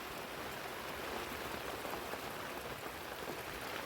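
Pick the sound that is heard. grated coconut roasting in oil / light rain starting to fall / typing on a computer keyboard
light rain starting to fall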